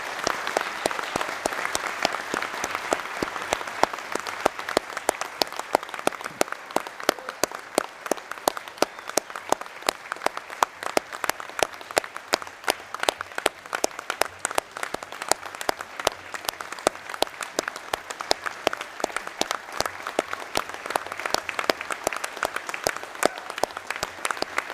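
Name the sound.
round of applause at a fire department ceremony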